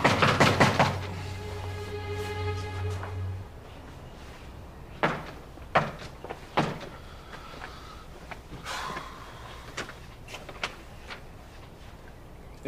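A sustained buzzing tone opens, then a door slams shut with a sharp bang, followed by scattered thuds and knocks at moderate distance in an otherwise quiet room.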